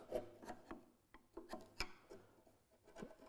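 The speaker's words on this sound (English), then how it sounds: "I'm just teasing those fibers, rocking my chisel." A chisel paring a dovetail in sapele wood, making short, close scraping and rasping strokes in an uneven rhythm, with light taps between cuts and no talking.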